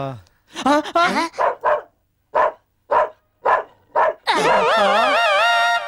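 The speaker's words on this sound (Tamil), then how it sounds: "பாத்தியாடா தெரு நாய்ங்கள்லாம் உஷாராயிடுச்சுங்க" A street dog lets out a run of evenly spaced, close barks, then breaks into a long, wavering howl.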